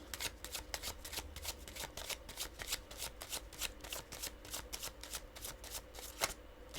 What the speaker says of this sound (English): This joint shuffle real smooth like.